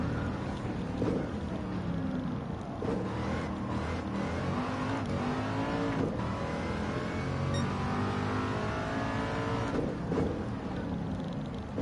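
Race car engine in the Gran Turismo 7 racing game, a continuous moderate roar that rises and falls as the car accelerates and shifts, steady throughout with no voices.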